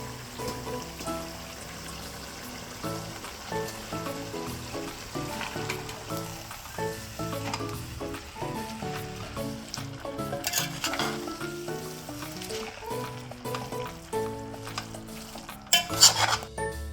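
Vegetable noodles stir-fried restaurant-style in a pan with sauces, chilli sauce, coriander and a splash of vinegar, giving a steady sizzle under repeated clatter of utensils against the pan, with a few sharper scrapes near the end.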